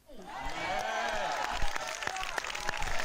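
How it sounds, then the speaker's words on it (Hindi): A congregation applauds at a revival meeting, a dense wash of clapping and crowd noise building quickly and holding steady, with scattered sharper claps and voices mixed in. "यीशु मसीह के लिए जोरदार तालियां बजाएं।"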